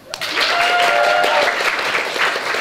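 Loud, sustained applause fills the room as a festival audience claps for a panel of writers, rising quickly from a quiet start into a thick, even wash of many hands.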